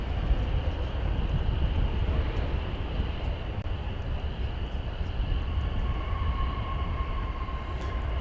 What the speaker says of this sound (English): And we've got a big plane now about to land.